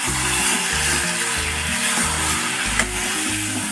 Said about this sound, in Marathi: पाच मिनटं पूर्णपणे मिक्स करून तेलामध्ये फ्राय करायचं